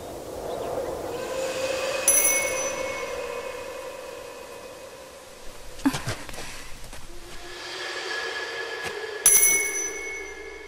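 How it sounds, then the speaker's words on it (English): A bell rings in a video game cutscene from Shadow Hearts Covenant, with bright sustained tones striking near the start and again close to the end over a soft ambient wash, without any talking. "Was that a bell?"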